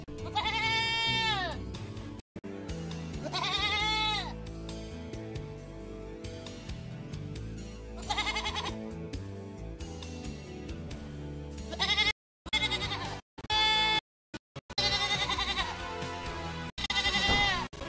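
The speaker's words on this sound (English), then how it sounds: "Best goat sounds in the world." Goats bleat repeatedly, loud and close, with wavering cries rising and falling over a dense background of farm noise, broken by a few brief silences.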